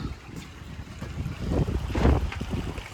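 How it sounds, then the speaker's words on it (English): Strong wind gusts outdoors beside a backyard koi pond, rumbling and buffeting the microphone in uneven surges that swell louder toward the middle. "hopefully you can hear from the wind chime how windy it is out there"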